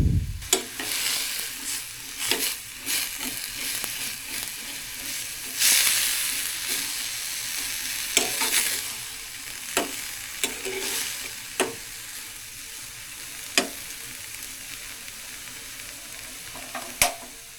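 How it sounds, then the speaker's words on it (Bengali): Bottle gourd peel and potato pieces are stirred with salt in a pot while boiling, giving repeated sharp scrapes and knocks of a spoon over a constant bubbling hiss. "লবণ দিয়ে কিছুটা নেড়ে দিব যেন লবণটা মিক্স হয়ে যায়।"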